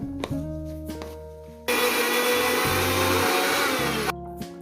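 An electric spice grinder whirs loudly for a couple of seconds, crushing spices mixed with turmeric for a rohu fish curry, a steady high-pitched motor roar between bursts of quieter kitchen clatter.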